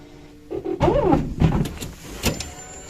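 A machine whirs and clunks through a short mechanical cycle, with rising motor tones and a few clicks and beeps, fairly close.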